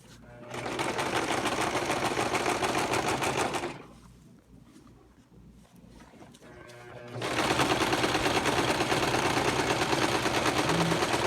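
A sewing machine stitches a zigzag down a jingle dress: a fast, loud mechanical rattle, a pause with quieter handling noises, then the rapid stitching resumes, with someone talking in places.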